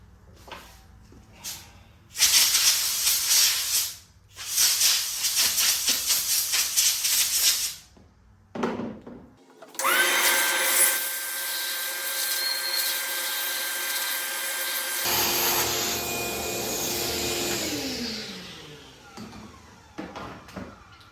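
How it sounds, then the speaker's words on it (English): Bursts of hissing compressed air come in short blasts, then a vacuum cleaner whines steadily for several seconds before its motor winds down, while cleaning out a head bolt hole in a Kia/Hyundai 3.3/3.5/3.8 engine block. "clean out this hole, compressed air in the vacuum"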